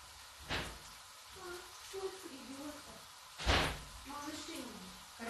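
A door opens to let dogs in from outside during home cooking, with two sharp bangs a few seconds apart; a voice and soft whimpering-like tones sound in between.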